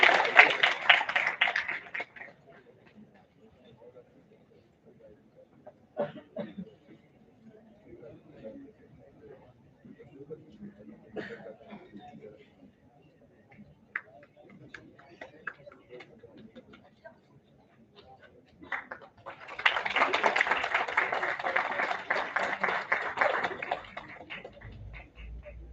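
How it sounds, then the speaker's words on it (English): A crowd claps at an international conference: a burst of applause at the start fades into a stretch of speech over a quiet room, then a second, fuller round of steady clapping rises near the end. "Let's have a huge round of applause for Mr. Dipanshu Yadav."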